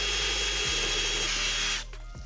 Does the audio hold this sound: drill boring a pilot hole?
yes